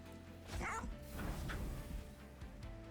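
A Bone Dog barks in the Monster Train 2 video game, with a few short yips and bow-wows sounding over steady background game music.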